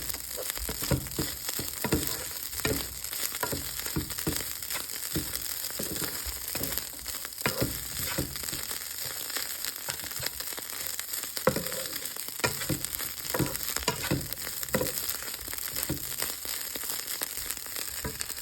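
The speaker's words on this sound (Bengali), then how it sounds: "পেঁয়াজ বেরেস্তা দিয়ে ভালো করে মিক্স করে নেব" Chicken fries in a pan with fried onions mixed in. A steady low sizzle runs throughout, broken by frequent scraping and stirring sounds, heard close up with no talking.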